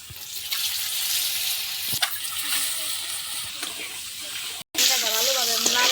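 Eggs frying in hot oil with turmeric in a pan for egg biryani, a steady loud sizzle running throughout with a brief gap near the end, and a voice speaking over it in the final second.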